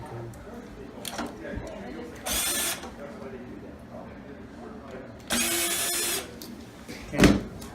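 A power drill backs screws out of an APC3000 UPS cover in two short whirring bursts, then a sharp clunk near the end, with quiet talk in between.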